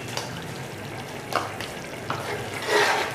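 Whisked yogurt being stirred into fried tomatoes in a pot for beef pulao, giving soft sizzling and a few scraping stir strokes, with a louder burst of frying near the end; no talking.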